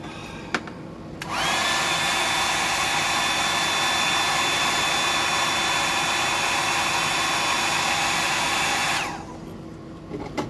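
A hair dryer blows steadily on a freshly painted squid-pattern hardbody fishing lure, switching on after a second and running loud and constant for about eight seconds before cutting off.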